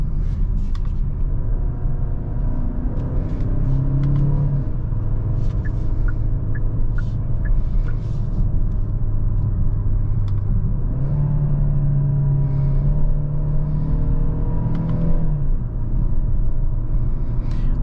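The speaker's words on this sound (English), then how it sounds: "once turbo kicks in, it does push you back to the seat" A Genesis GV70 SUV accelerating hard as its turbo comes on, with a steady engine rumble rising in pitch through two long pulls, heard from inside the cabin with road noise and no talking.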